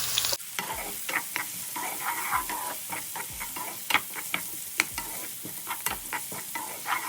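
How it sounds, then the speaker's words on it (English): Four thinly sliced onions fry in sunflower oil in a hot pan, giving a steady sizzle with regular spatula scrapes and taps against the pan, heard close up and alone. "here I have got 4 onions which I have thinly sliced. I am now going to cook this until nice and golden"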